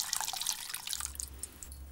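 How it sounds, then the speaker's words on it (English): Fish poaching liquid from salmon is poured off in a kitchen, a light trickling and dripping splash, close and fairly quiet, with a low hum underneath and no talk. "Just pour off this poaching liquid so that the flavours permeate into the rice."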